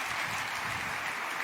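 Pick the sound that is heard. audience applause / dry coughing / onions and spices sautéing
audience applause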